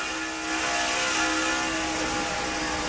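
NASCAR Nextel Cup stock cars race at Darlington in the 2007 Dodge Avenger 500, producing a continuous loud, roaring engine drone that swells slightly as the pack passes.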